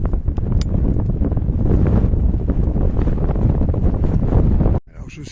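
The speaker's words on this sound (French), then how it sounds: "Parce que franchement, il y a un vent de dingue." Strong wind buffets the microphone on the ash-covered volcanic slope of Mount Etna, a loud continuous roar with gusting surges for nearly five seconds before it drops off sharply and a fainter rumble follows.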